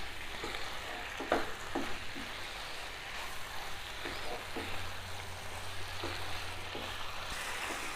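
Boiled jackfruit pieces frying with tomatoes in a pan for an Assamese-style jackfruit curry. A soft, continuous sizzle runs throughout, punctuated by scattered stirring clicks and taps.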